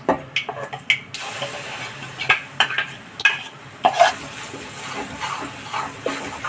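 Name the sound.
stirring thick flour batter in a pan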